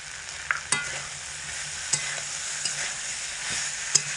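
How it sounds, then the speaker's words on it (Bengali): A spoon stirs a drumstick and potato curry in a frying pan after chili powder and sugar go in, with soft scraping clicks over a steady close sizzle and no talking. "মরিচ গুঁড়ো আর চিনি দিয়ে ভালো করে নাড়াচাড়া করে সমস্ত তরকারিটার মধ্যে মিশিয়ে দেব"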